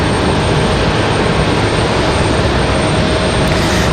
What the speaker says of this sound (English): Delta 2600 headed to Atlanta. That was our 737-900 departure there.